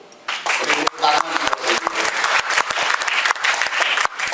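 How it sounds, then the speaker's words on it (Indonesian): Audience applause for two invited guest presenters at a store opening event in Indonesia, a dense burst of clapping that starts abruptly and stays loud and steady, with a voice briefly heard over it near the start. "Beri tepuk tangan."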